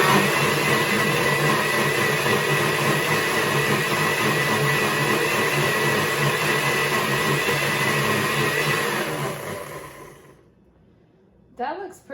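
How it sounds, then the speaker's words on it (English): A blender purees habanero hot sauce with a steady, loud whirring motor roar for about nine seconds, then winds down and stops, followed by a brief clatter. "So I'm gonna puree it now."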